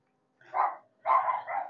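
A dog inside a village house barks twice, a short single woof followed by a longer double bark, close and clear in an otherwise quiet room.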